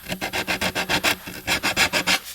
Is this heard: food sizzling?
no